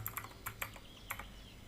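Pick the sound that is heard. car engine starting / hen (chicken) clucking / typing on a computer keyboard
typing on a computer keyboard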